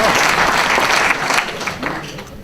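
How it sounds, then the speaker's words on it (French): A lecture audience bursts into loud applause after a mathematics talk on the Pythagorean theorem; dense close clapping that is strongest at first and then thins and fades toward the end. "je crois qu'on peut applaudir"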